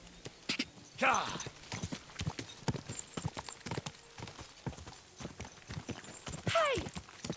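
Horse hooves clip-clop at a steady walking rhythm in the medieval video game Kingdom Come Deliverance 2, close and clear, with two short neighs or whinnies and brief voices between the hoofbeats.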